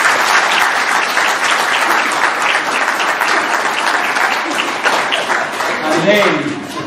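Wedding guests break into loud sustained applause and cheering for the bridesmaids, a dense crowd of clapping that continues throughout and fades slightly at the end, with voices mixed in.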